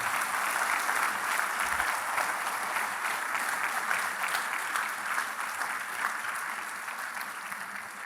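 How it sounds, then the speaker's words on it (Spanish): A church congregation applauds the Lord, a broad, even wash of many hands clapping at moderate distance that continues steadily for several seconds. "dele un aplauso al Señor"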